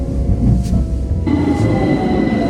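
Train rolling on rails heading toward Oxford Street in wet, rainy weather, a steady loud rumble with a shift in tone partway through as high squealing tones enter.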